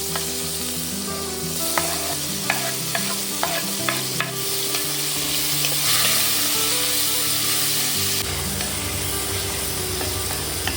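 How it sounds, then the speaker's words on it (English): Chopped onion and tomato cooking with whole spices such as cinnamon sticks in a single pot for chicken rice, giving a steady sizzle with repeated scraping stirs and brief clinks from the spoon, close and fairly loud without voices. "Then add 1 large chopped onions, 1 large chopped tomato. Give it a stir and let it cook until softened."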